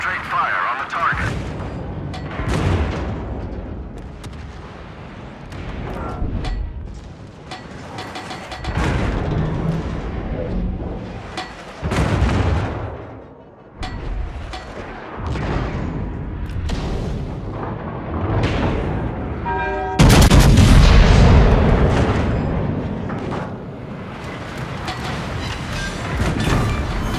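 Heavy naval gunfire from a battleship in World of Warships booms repeatedly amid rumbling explosions, with a particularly loud blast near the end, while a voice talks over the battle.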